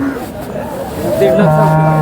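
A cow moos loudly and close at the Sangola cattle market, a long low drawn-out call rising over busy market chatter and background voices.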